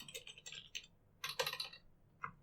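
Computer keyboard typing into a text field during a Trisquel GNU/Linux 8.0 installation: a few quick bursts of keystrokes with short pauses between them, close and fairly quiet, with no voices.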